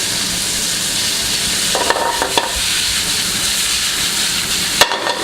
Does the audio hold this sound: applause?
no